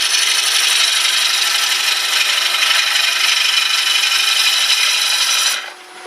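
A turning tool cuts a wet wooden bowl on a lathe, producing a loud, continuous rasping hiss up close that holds steady for several seconds before abruptly dropping away near the end.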